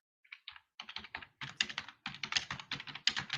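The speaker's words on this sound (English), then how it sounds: "when somebody is typing away very wildly" Frantic typing on a computer keyboard over an open microphone, a dense run of quick clattering keystrokes in bursts that build steadily louder, with no voices.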